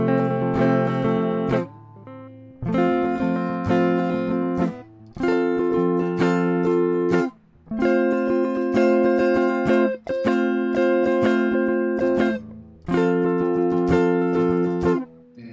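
Strummed guitar chords ring out in six sustained bursts, each held for about two seconds with short breaks between, clear and close with no voice.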